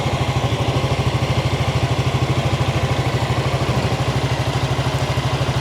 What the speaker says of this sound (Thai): ส่วนเสียงท่อรถ